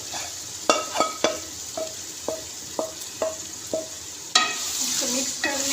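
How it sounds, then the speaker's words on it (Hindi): Half-fried taro (arvi) goes into hot masala in a pan and is stirred, giving a steady sizzle. Sharp metal clinks and scrapes of a spoon against the pan ring out repeatedly at an even pace. "अब यहाँ पे हम डाल देंगे जो हमने अरबी को फ्राई किया है, हाफ फ्राई किया है हमने, इसको डालेंगे मसाले के अंदर।"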